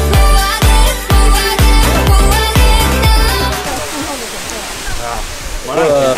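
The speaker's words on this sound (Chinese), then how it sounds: "我们才来到第二个瀑布，这个就很壮观了。" Roaring water of the Sandiaoling waterfall near Ruifang, Taiwan, a broad steady rush heard on a hiking trail, partly covered at first by loud rhythmic thumping music before the waterfall's wash stands more on its own.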